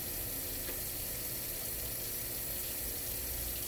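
Hands plunged into warm water in a kitchen sink while mixing meatloaf, a steady close, loud rushing and sloshing hiss with no pauses.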